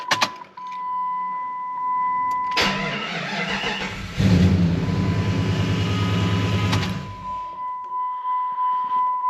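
1997 Jeep Grand Cherokee ZJ with a fuel pump fault, a dashboard chime then several seconds of loud rapid starter cranking before the engine catches briefly and dies, followed by soft rhythmic ticking.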